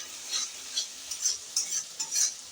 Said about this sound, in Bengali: এবার আমি দিয়ে দিচ্ছি মশলাটাকে ভালো করে কিন্তু কষাতে হবে